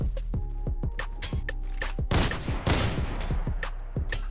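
Shotgun fire in the Roblox game Criminality, a double-barrel blasting in a quick regular series of loud, punchy reports, with a denser flurry of shots in the middle.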